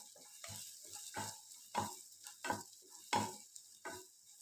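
Chopped onion lightly frying with garlic and green chilli for a diet vegetable soup, a soft sizzle under a series of stirring scrapes that come every half second or so.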